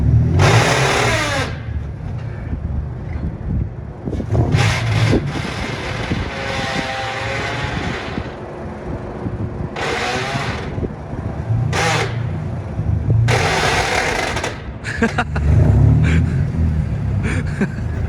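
A manual car is driven with its gears shifted without the clutch, the mid-pitched engine rumbling steadily and revving up and down in repeated swells, heard from inside the car, loud and continuous with occasional brief noises over it.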